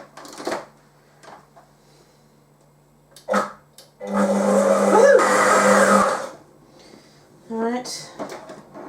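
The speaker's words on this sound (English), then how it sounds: "Now you blend." An electric mixer whirs loudly for about two seconds, blending brown and white sugar for cookie dough, framed by clunks and a brief bit of talk.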